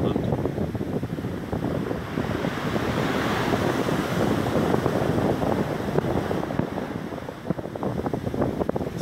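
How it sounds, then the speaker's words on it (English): Waves wash steadily over countless tiny pebbles on Chesil Beach, a continuous hissing, rattling surge heard up close, with heavy wind buffeting the microphone throughout. "The sound of the waves gently moving, trillions of tiny pebbles."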